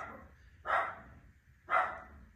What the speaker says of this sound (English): That's my dog in there.